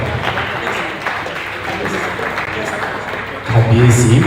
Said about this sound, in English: Let's clap, let's clap, let's clap, let's clap